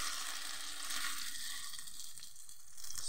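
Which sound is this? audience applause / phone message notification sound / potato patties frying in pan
potato patties frying in pan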